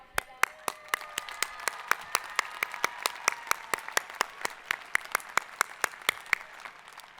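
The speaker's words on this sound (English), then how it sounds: "can we please give a round of applause to our women in STEM?" Steady, fairly dense clapping from a commencement audience honoring women in STEM at a 2021 College of Science and Mathematics and Lyles College of Engineering ceremony, sharp individual claps rising out of the crowd for several seconds with no talk.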